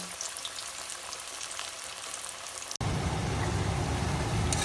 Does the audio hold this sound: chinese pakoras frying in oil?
yes